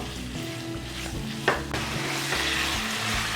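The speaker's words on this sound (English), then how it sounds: "Keep stirring while you're frying this chicken as the flame is high" Chicken fries loudly on a high flame in a hot pan for butter chicken while a utensil stirs and scrapes, with one sharper clatter partway through.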